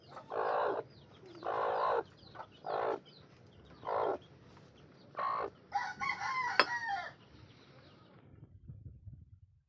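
A mother hen with newly hatched chicks clucks in a run of short, loud calls, then lets out a longer drawn-out call near the end, over faint background noise.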